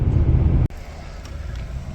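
Steady road rumble and wind from a truck towing a dump trailer along the highway, loud and continuous with a brief dropout partway.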